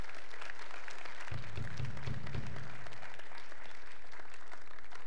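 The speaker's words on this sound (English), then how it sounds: "can we give one more round of applause to our choir and all of their hard work?" An audience at a school band concert gives a full round of applause for the choir, dense sustained clapping with some low thumps and crowd noise, fairly loud throughout.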